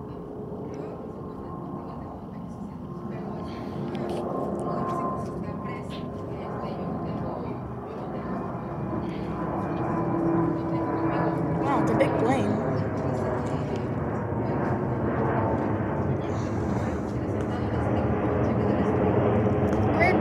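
A FedEx Airlines cargo jet on a Memphis to Oakland flight passes low over a residential neighborhood, its deep roar building steadily and staying loud and continuous for about twenty seconds.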